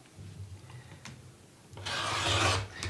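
A rotary cutter slices quilt fabric along a ruler, a faint scrape or two followed by a longer soft, rasping cut that swells and fades, close and without talk.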